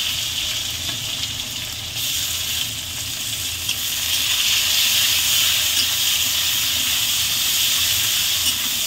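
Chopped onions sizzle steadily in hot oil in a pan for a Bengali chicken kosha, a loud, continuous frying hiss that swells slightly partway through, with no talking.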